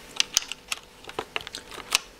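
Keys clack on a Cooler Master MS110, an entry-level membrane keyboard, in a sparse string of crisp, close taps with uneven gaps and no voices.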